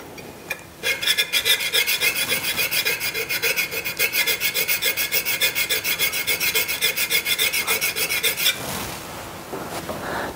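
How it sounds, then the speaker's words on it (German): Woodturning scraper honed on a sharpening plate: a steady, fast rasping rub of steel stroked back and forth for about eight seconds, close and loud, then stopping. "Auch der Schaber wird wieder einmal kurz mit der Schleifplatte abgezogen."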